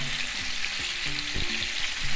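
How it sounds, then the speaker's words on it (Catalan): Pieces of monkfish sizzle in hot oil in a frying pan, with a close, steady crackle and a few soft clinks of stirring, no voices. "ja tenim l'oli calent, ja l'anem posant el rap a la paella"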